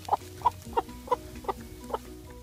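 A broody laying hen gives six evenly spaced, low clucks at close range over a quiet background.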